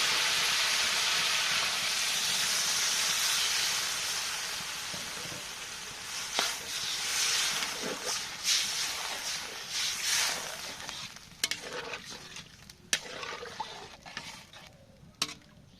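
Food fries in a pan in a home kitchen. A broad, steady sizzle fills the first several seconds, then fades into irregular crackles and pops, with a few sharp clatters toward the end.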